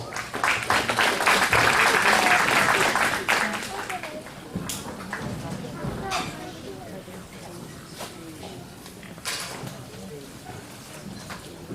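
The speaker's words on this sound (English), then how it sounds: "Let's give these 4 a round of applause" Spectators at a 4-H/FFA steer and market hog show applaud the placing exhibitors in a burst of clapping that fades after a few seconds into arena noise, animal sounds and scattered voices.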